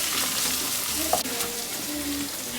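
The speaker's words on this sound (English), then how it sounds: "I'm just gonna kind of stir that around until it gets thickened" Flour and tomato paste are stirred in a hot pan, giving a steady close sizzle with soft scraping of the spoon through the thickening mixture, no voices.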